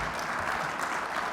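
Audience applause at a keynote address by the Illinois governor, a short burst of dense clapping from a crowd, steady and fairly distant, without talk.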